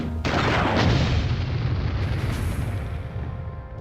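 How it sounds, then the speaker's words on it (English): A heavy, booming shotgun blast in Army Men: Sarge's Heroes hits suddenly and rolls off into a long rumbling decay, loud and close, with no voices. "Kill a spider with a shotgun blast."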